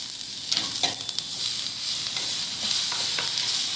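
Tomatoes with cumin and onions fry in a pan, a bright continuous sizzle close by with a few soft stirring scrapes and no voices.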